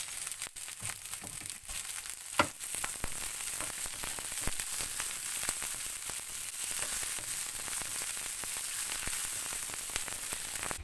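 Green chilies frying with roasted golden garlic in hot oil, a steady close sizzle with dense crackling and popping that runs unbroken throughout, fairly quiet and with no talking.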